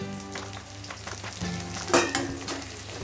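Onions frying in oil in a pan for a dry okra and potato dish sizzle up close, with stirring scrapes and a couple of louder clanks near the end.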